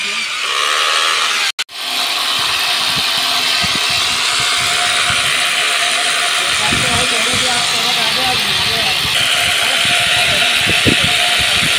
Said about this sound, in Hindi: तो गाइस ये देखिए हवा भरी जा रही।